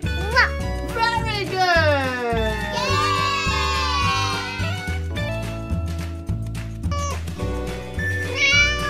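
A cat meows repeatedly in high, rising and falling calls, with a voice and light background chatter mixed in under a steady musical backing.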